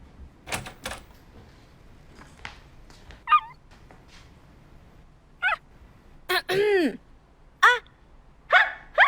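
A woman imitates a dog, letting out a string of short yips and barks at irregular intervals, with a whiny, rising cry near the middle.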